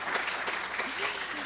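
Audience applauding and cheering in a hall, a dense, loud wash of clapping that runs throughout with a voice rising briefly over it.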